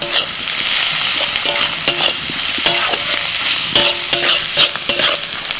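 Onions frying with salt and Kashmiri chili powder, stirred in a hot pan: a loud, steady sizzle broken by repeated scraping strokes of a spoon against the pan, with no talking.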